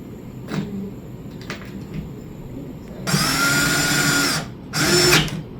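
Power drill running in a city garden in two bursts, a long steady whine followed by a shorter one after a brief pause, close and loud over quiet background.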